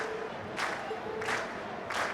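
Festival crowd in Trails of Cold Steel cheering in three swelling bursts over a steady background din, moderately distant and faint.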